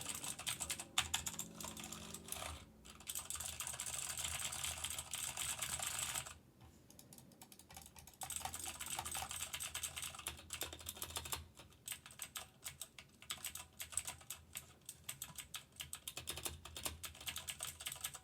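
Loud, heavy clatter of a mechanical keyboard with Cherry MX Green switches, typed in steady bursts of rapid clicky keystrokes with a short pause near the middle, close to the mic and with no voice.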